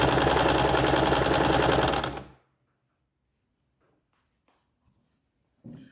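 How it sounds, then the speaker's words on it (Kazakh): A sewing machine stitches fabric for a bag in a dense, fast burst of about two seconds, then stops abruptly, leaving near silence with a brief faint sound at the end. "Мата тігіс тіккен уақытта астыңғы матаны тартып, үстіңгісін сәл босаңқыратып тіксек, бізде матаның шеті тегіс шығады."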